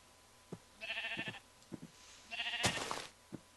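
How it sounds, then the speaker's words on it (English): Sheep in Minecraft bleating twice in short wavering calls, close and clear, with a few soft clicks between them. "Welcome to the multiple sheep."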